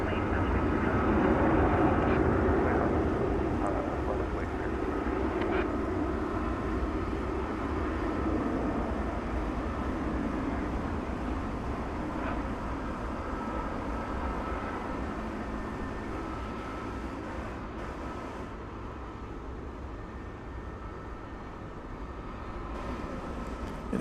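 Embraer 170 jet arriving from Amarillo at DFW Airport at night, a broad, steady roar from a distance that slowly fades, with a voice talking over it.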